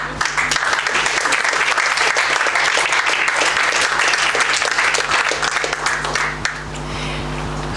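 Dense, loud audience applause fills a sports awards ceremony hall in Škofljica, sustained for several seconds before thinning out toward the end.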